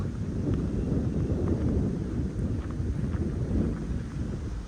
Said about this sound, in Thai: ลมไทยลมมาเข้าหน้าหนาวแหละแม่